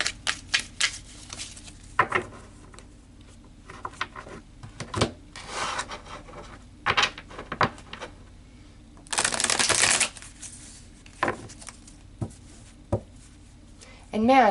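Tarot cards shuffled and handled by hand, giving crisp riffling bursts, taps and slaps in irregular clusters close to the microphone, with a person speaking in between.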